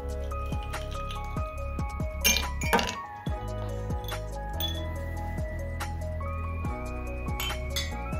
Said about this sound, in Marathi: त्यामध्ये थोडे आईस क्यूब्स टाकून घेऊया।